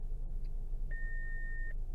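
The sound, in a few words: car warning beep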